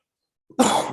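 One sharp, close cough bursts out after a near-silent start and lasts about half a second.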